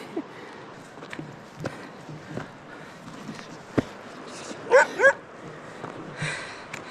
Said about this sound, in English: The dog is very angry with me.